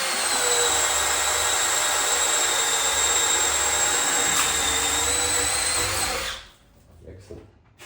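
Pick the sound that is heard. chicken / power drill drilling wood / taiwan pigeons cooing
power drill drilling wood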